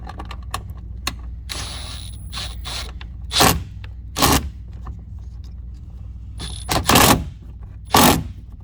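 A 3/4 inch screw is driven into a factory mounting point with a Z bracket while fitting mud flaps on a 2021 or later Ford Bronco Sport, heard as close mechanical creaks and ratcheting clicks with several loud bursts of power-tool driving.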